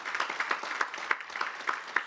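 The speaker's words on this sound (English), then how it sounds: "So big round of applause to all of you for working" Summit audience applause, a moderate patter of clapping with sharper individual claps at a steady pace, no voices over it.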